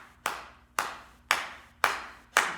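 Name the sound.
hands clapping to keep the pace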